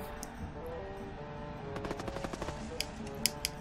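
Gunfire in the frantic 2D arena arcade game Penarium, a quick run of sharp repeated shots over a steady game music bed, with a few louder isolated cracks toward the end.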